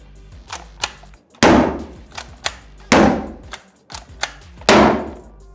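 A Stinger Cap Hammer Tacker fires in three loud, sharp slams, each trailing into a brief metallic rattle, with lighter clicks of the release trigger and mechanism between strikes.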